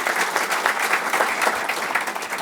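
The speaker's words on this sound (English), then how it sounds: "A big applause for Jan Eliasson" Steady, full audience applause greets a keynote speaker at a European sustainable cities conference, a continuous wash of many hands clapping with no talk.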